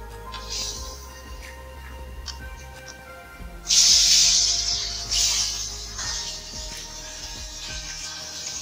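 Cumin seeds, flat bean seeds and potatoes sizzle in hot oil with a steady close hiss. A louder burst of frying begins partway through as the potatoes go in, then eases back to a continuous sizzle. No speech is heard.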